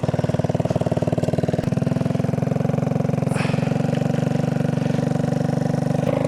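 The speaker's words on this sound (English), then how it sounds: "we're gonna try to fire this thing up again and see what happens" A go-kart engine runs steadily at close range, a loud pulsing idle that chugs evenly throughout with a slight change in tone partway, and no talk over it.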